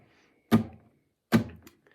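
A palm-muted guitar string struck hard with a pick gives two short, dull percussive thuds about a second apart, each decaying quickly into silence.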